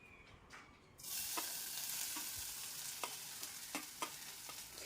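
Chopped fenugreek leaves tossed and stir-fried in a hot pan, a steady close sizzle that jumps up when the leaves go in, with repeated scraping and stirring clicks throughout.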